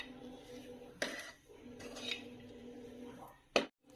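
Spoon scraping and clinking in a pan while cashew-almond powder is stirred into sticky date dough, a few soft knocks and scrapes over quiet kitchen background, with one sharper clack near the end.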